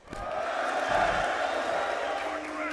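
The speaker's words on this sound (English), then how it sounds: "There was more boos, but there was more cheers." A large esports arena crowd at a major tournament semifinal roars with sustained cheering mixed with boos, a dense, loud wash of many voices lasting the whole moment.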